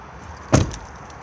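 Keys jangle once in a short, sharp rattle at an Auto-Trail Tribute F60 motorhome, close and clear against a quiet background.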